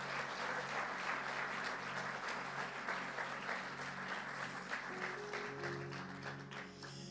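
Church congregation gives a round of applause, a steady wash of many hands clapping at moderate distance, fading slightly toward the end as a low tone rises underneath.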